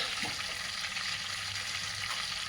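Whole spices such as cinnamon, cloves and bay leaves sizzle steadily in hot oil and butter for palak paneer, a close, continuous frying hiss with no voices.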